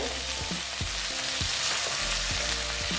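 Thin potato strips sizzle in hot oil in a pan for an egg dish, a loud, continuous hiss. Regular scraping strokes of a spatula stir them at a steady pace, with no talk.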